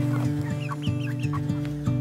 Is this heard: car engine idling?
no